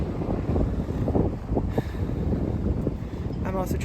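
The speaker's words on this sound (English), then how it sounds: "now the crosswind is picking back up" A gusty crosswind sweeps across an open disc golf course, buffeting the microphone with a loud, uneven low rumble that surges and eases, while a faint voice is present underneath.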